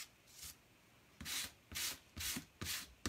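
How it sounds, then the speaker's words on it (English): Light hand sanding rubs down a painted surface between paint layers, in about five short close strokes with brief pauses between them. "just give it the light rub down"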